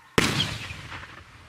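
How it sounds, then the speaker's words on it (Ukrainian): A single sharp explosion on a front line in Ukraine bursts suddenly out of near silence, followed by a short, decaying rumble that fades within about a second. "Вибух!"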